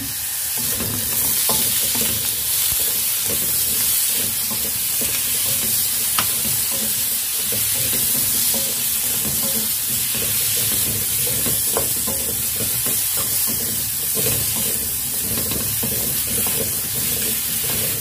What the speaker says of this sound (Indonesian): di sini aku tambahkan minyak goreng